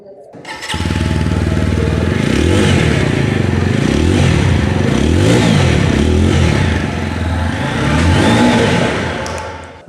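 160cc motorcycle with dual barrel exhaust starting and revving, a loud bassy engine note rising and falling in several throttle blips, close by.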